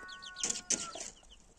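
Chickens outdoors clucking close by, a short burst of several quick clucks and squawks with faint chirping around them.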